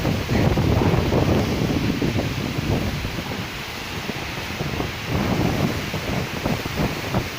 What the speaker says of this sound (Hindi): दोनों तरफ से हवा आ रही है और ये पहली बार हो रहा है।